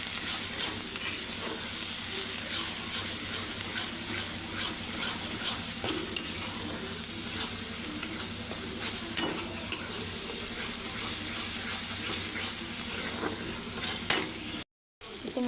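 Dry spices stirred into hot oil for a spicy besan shev curry: a steady, close sizzle with soft scraping stir strokes running throughout, with no talking.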